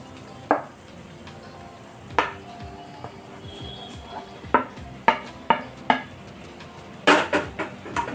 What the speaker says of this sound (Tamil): இந்த மசாலா எல்லா இடத்துலையும் படும்படியாக நம்ம நல்லா கிளறி விடலாம்